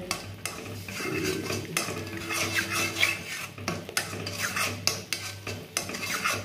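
Chana dal stirred in ghee in a pan, a spoon scraping and clinking against the metal in steady repeated strokes, close and fairly loud, with a faint sizzle underneath.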